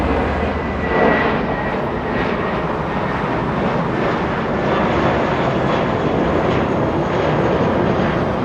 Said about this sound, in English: United a little A319 lifting off,